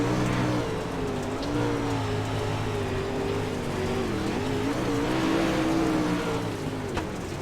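Onboard engine of the number 65 race car during a Twin 50s championship-night feature, droning loudly and steadily, then briefly surging higher in pitch as the revs shoot up, with constant road and wind roar beneath.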